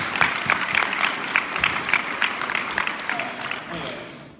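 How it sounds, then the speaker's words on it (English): A room of accounting and finance students claps in a light, steady patter of applause at moderate volume, with individual claps audible, tapering off toward the end. "So round of applause to all of you"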